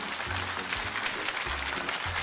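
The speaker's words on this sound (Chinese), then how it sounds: "来掌声！" A studio audience at a televised lecture show applauding, a dense, even wash of clapping that runs steadily throughout with no talk over it.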